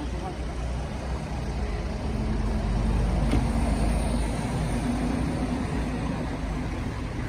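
A Kia Sportage 2.0 diesel 4x4 from 2014 pulls away on a test drive, its engine a steady broadband rumble held at a constant level throughout, heard from nearby.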